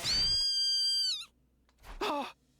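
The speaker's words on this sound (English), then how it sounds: "I heard a blood-curdling shriek from the hall." A loud, piercing shriek from The Hundred Line -Last Defense Academy- holds steady for over a second and wavers off, then after a short silence a second, rougher cry follows briefly.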